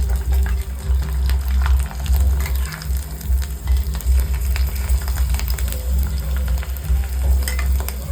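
Sago papad frying in hot oil bubbles and sizzles continuously at close range, with a dense crackle and occasional stirring sounds.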